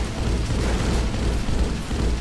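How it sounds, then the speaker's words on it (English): Rumbling explosions in the video game Splatter tear through swarms of worms, loud and dense bursts rolling continuously with no clear gaps. "Obviously, I just exploded a million of them"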